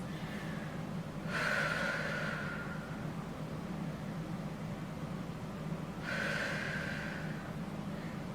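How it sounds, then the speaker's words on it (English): Two slow, audible breaths taken while holding a lower-back stretch on a Pilates reformer, each a soft airy exhale rising over a steady low background hum, spaced several seconds apart. "go ahead and hold that and take a couple breaths"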